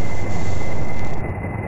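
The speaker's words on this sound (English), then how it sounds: "Let's slow our engines down a little bit and see if we can get control." Rocket engines in the spaceflight game Kerbal Space Program roar as a loud, dense, continuous broadband rush that thins slightly near the end, with no voices.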